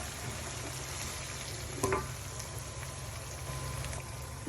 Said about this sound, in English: I'll let this fry for 5 minutes before adding in the pepper